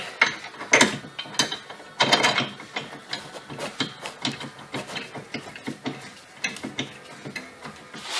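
Mechanical clunks and metallic clicks from fitting a strut shock and lining up its bolt on a 2002-2006 Nissan Altima, close by, irregular knocks and ratcheting-like taps throughout with no talking.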